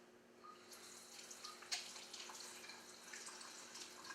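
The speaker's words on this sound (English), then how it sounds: "I'm going to wash my hand real quick so I can dose him up again." Tap water runs steadily into a sink while hands are washed under it, a soft continuous splashing hiss at close range with small drips and splashes, quiet throughout with no talking.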